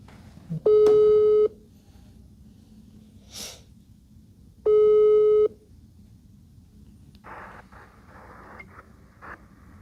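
A phone call ringing unanswered, two long electronic ring tones a few seconds apart, close and clear, with faint breathing and small rustles between them.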